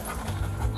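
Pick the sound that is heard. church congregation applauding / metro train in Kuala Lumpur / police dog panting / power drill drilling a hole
police dog panting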